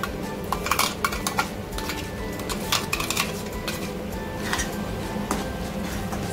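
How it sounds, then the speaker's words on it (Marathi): A spoon clinks and scrapes steadily in a pan as onion-coriander paste is stirred with coconut for Vidarbha-style chicken masala, a busy, close run of metallic taps over a low frying hiss. "दोन्ही पण छान फ्राय करायचे एकत्रच."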